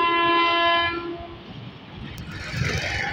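Thal Express passenger train led by an HBU20 diesel locomotive, passing a village: a loud, sustained horn blast for about a second, then the rumble of the approaching train, with a faint voice briefly under it.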